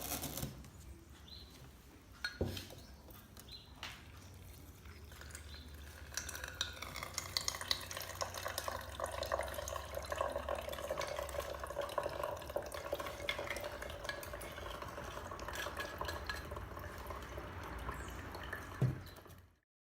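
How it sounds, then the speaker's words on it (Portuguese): Salt water trickles and drips steadily through a filter as it is separated from sand, a continuous soft liquid patter with occasional small knocks, fairly close and with no talking. "partimos para a parte da filtração, que nós vamos separar a água com o sal da areia"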